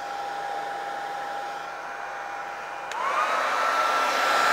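A hair dryer blows close and steady over wet paint on a model NYC Hudson locomotive, its whine shifting and rising partway through as the airflow changes, with no voices.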